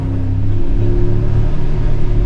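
A Mercedes-AMG G63 4x4 Squared drives through a tunnel, its engine a loud, steady, booming rumble with no talking.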